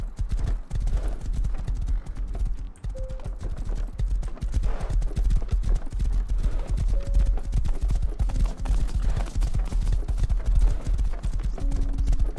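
Horse in the video game Rust galloping, a fast continuous clip-clop of hooves running steadily throughout, close and loud, with occasional faint tonal game sounds.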